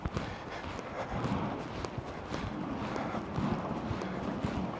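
Stormy wind gusts along a street in Bodrum, a continuous rough roar that buffets the microphone with uneven surges and no voices.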